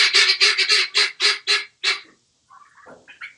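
Guinea fowl on a homestead give a run of about eight loud, harsh, rhythmic calls close by, then a short break and a few softer, lower chattering notes, with no talking.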